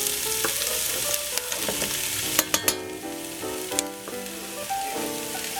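Onions and garlic fry in hot oil for a chili, a continuous close sizzle under background music, with a few sharp clicks and taps of utensils and no talking.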